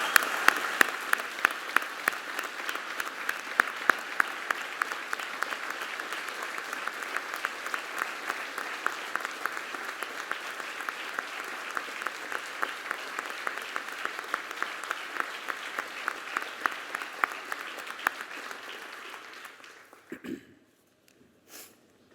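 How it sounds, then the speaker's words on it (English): An audience at a 2019 police department awards ceremony applauds in a sustained round of dense clapping that holds steady for about twenty seconds, then fades out abruptly near the end. "join me in a round of applause"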